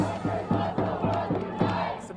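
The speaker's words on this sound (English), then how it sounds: "you can hear the crowd" Protest crowd on Pennsylvania Avenue outside the Capitol, a mass of voices chanting in a steady rhythmic pulse, loud and close.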